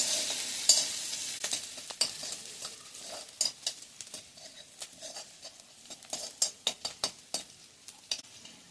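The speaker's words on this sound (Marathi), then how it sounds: "कांदा जरा गुलाबीसर रंगावर परतून घ्यायचा आहे." Chopped onion being stirred and sautéed in a pan for vermicelli upma, giving a steady sizzle broken by repeated sharp scrapes and taps of a spatula against the pan, close and fairly loud with no talk.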